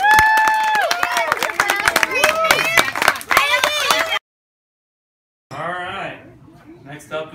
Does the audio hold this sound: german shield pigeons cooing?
no